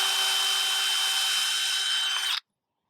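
An electric drill bores a pilot hole in wood for a planter, a steady high whine lasting over two seconds at close range that stops abruptly, with no talk over it.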